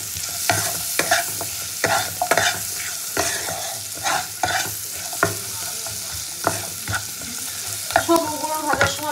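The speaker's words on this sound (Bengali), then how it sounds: "সব উপকরণগুলো হালকা করে একটু ভেজে নেব" Butter paneer ingredients, onion with kasuri methi in butter, fry and sizzle in a pan, with repeated scraping stirs of a spatula in an irregular rhythm, close and steady throughout.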